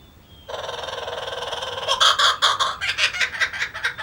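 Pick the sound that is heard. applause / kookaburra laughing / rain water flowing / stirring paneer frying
kookaburra laughing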